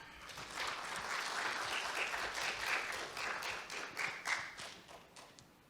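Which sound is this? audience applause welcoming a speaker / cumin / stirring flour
audience applause welcoming a speaker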